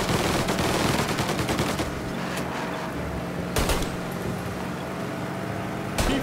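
Gunfire in Mafia Definitive Edition, dense rapid bursts of shots at the start followed by a steady mechanical drone and a couple of isolated louder reports.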